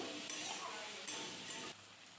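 Spice paste of dried red chilli and ginger with salt sizzles and is stirred in a pan for a Bengali rui fish curry with potato and pointed gourd, a steady close frying hiss that eases off near the end.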